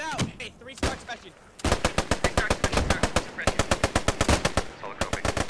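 Bren light machine guns firing in a World War II video game battle: rapid, rhythmic bursts of loud close gunfire with short pauses between strings of shots, with some voices at the start before the firing takes over.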